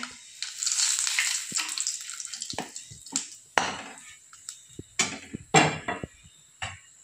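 Cumin seeds and a bay leaf sizzle in hot oil in a wok-style pan, a steady frying hiss that breaks into sharp crackles and a few clinks of a spoon against the pan.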